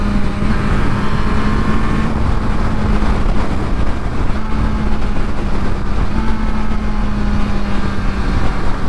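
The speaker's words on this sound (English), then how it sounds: "See, the downshifts are just as smooth as the upshifts." A Honda motorcycle fitted with the E-Clutch system runs with a loud, steady engine drone throughout, its pitch shifting slightly at a few points as it drops through the gears, with no voices.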